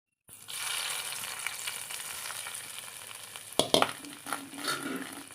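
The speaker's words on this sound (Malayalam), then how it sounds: "നമുക്കിനി കറിയിലേക്ക് ഒഴിച്ചു കൊടുക്കാം." A hot tempering of fried shallots and curry leaves sizzles steadily. It then erupts into sharp, splattering bursts as it is poured into a Kerala prawn curry made with kudampuli.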